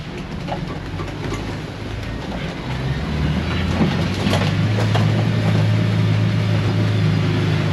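A 2020 Mahindra Roxor off-road vehicle climbs uphill in 4 low, fourth gear, its engine a loud, low, steady drone that swells and grows stronger partway through, with rattling over rough ground.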